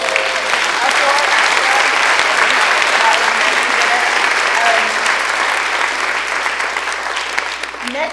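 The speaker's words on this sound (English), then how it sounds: "So can we please applaud" Sustained audience applause at an AI symposium fills the room steadily and loudly, a dense wash of clapping from a large crowd with a few scattered voices underneath, tapering only slightly near the end.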